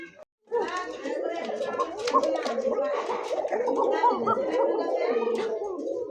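A pair of Danish-breed pigeons coos in continuous rolling, throaty calls close by, with a voice talking over them.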